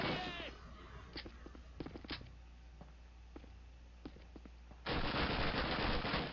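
Scattered single gunshots pop at irregular intervals in Call of Duty 1, then a loud sustained burst of rapid automatic fire near the end.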